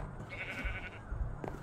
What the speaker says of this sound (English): And there's sheep!